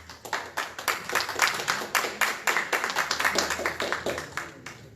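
An audience at an anti-corruption law seminar claps for a speaker, producing a close, rhythmic run of distinct hand claps in quick succession without pause.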